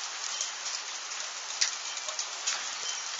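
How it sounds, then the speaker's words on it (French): Steady dense patter of hail and sleet pelting surfaces during an intense hailstorm in Tour-en-Sologne, France, a continuous hiss with occasional sharper ticks of larger stones, no voices. "Oh, les grêlons. Aïe, aïe, aïe, ça pique, là, le grésil et la grêle"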